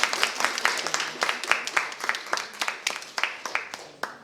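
An audience at a science slam for young researchers claps steadily, a dense run of sharp hand claps sustained at even loudness throughout, with no voices over it.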